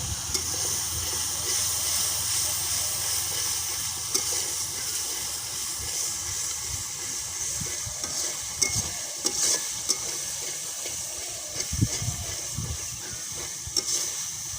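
Old oil sizzles and hisses steadily in a pan over a wood-fired stove, a close, continuous frying crackle with occasional sharper pops and stirring knocks, and no talk.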